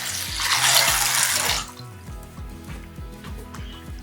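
Kidney beans are washed under a running kitchen tap; water gushes loudly at first, then gives way to quieter splashing and rhythmic dripping and sloshing as the beans are rinsed and drained.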